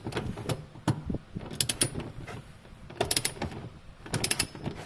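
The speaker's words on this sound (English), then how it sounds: "I'm going to use a torque wrench though" A torque wrench ratchets on a middle seat belt bolt in a 1999 Honda Accord, making bursts of quick close clicks and ratcheting ticks in several short rounds with brief pauses between.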